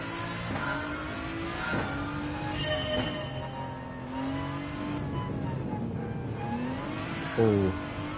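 Race car engine in Gran Turismo 7 drones steadily throughout with shifting harmonic pitch as it revs up and down, one brief louder burst near the end.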